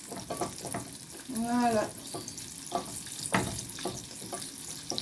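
Breaded chicken pieces crackling and sizzling as they go into hot frying oil, soft and close with scattered pops and clinks, while a voice speaks briefly in French.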